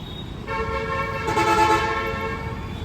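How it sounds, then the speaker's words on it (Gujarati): A luxury bus in Surat blares a loud, sustained multi-tone horn that starts abruptly, swells in the middle and holds to the end over low traffic noise. "મિત્રો હોરણનો અવાજ સાંભળો"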